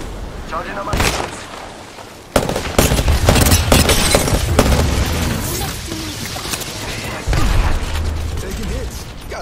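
Gunfire in the Apex Legends battle royale shooter, dense bursts of shots and impacts starting abruptly and continuing throughout, mixed with game mechanisms and a player talking over it.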